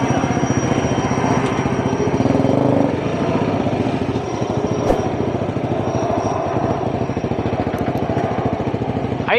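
A KTM Duke motorcycle engine idles steadily and loudly up close, with an even, rapid putter that holds for the whole stretch and no talking.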